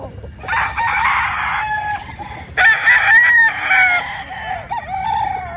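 Pure possum game chickens on a local chicken farm after rain, with roosters crowing in long overlapping calls and clucking between them, fairly close and loud, no talking.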